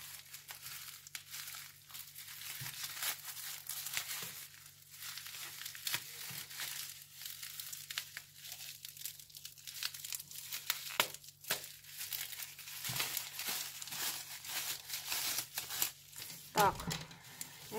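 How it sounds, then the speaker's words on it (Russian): A parcel is being unwrapped with small craft supplies and watercolour brushes inside, giving quiet crinkling and tearing of packaging in irregular bursts under a faint background hum, with one louder rip near the end. "Так, сейчас откроем."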